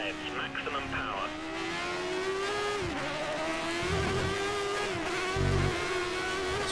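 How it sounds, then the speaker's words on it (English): A Formula 1 car in the F1 2013 video game, modded as the 1988 season at the German Grand Prix, runs at full revs with a steady, high, buzzing engine whine that rises and dips slightly under continuous commentary. "He's running full revs, maximum power."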